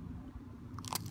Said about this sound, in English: Chew it up.